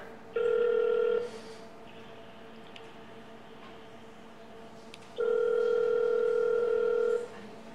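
An outgoing phone call ringing out, two long electronic ring tones separated by a pause, clear and fairly loud against a quiet background.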